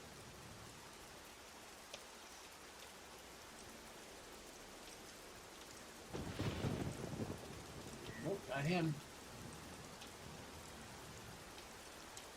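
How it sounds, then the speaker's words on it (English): Rain falls over the city of Freeport in the video game EverQuest 2 as a faint, steady hiss throughout, with a voice and brief game sounds breaking in partway through. "It's raining in Freeport."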